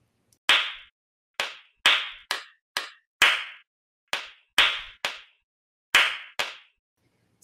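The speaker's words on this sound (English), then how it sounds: "Stimuli consisted in strong, weak, and missing hand claps" Single hand claps used as auditory stimuli, sharp isolated smacks in an irregular sequence with near silence between them, some loud and strong and others noticeably weaker, each decaying quickly.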